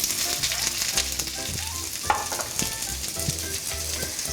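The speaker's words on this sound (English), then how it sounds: "Stir fry the onions and the capsicum on high heat until they become lightly softened" Diced onions, capsicum, ginger and garlic stir fry in a kadai over high heat, giving a steady close sizzle with faint scraping from stirring.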